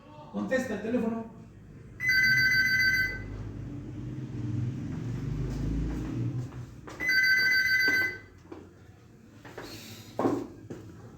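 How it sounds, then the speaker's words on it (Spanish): A telephone rings in two trilling bursts several seconds apart, bright and fairly loud, while a voice speaks before and between the rings over a low background rumble. "Javier, contesta el teléfono."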